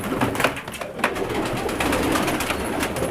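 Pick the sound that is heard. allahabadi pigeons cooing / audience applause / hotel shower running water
allahabadi pigeons cooing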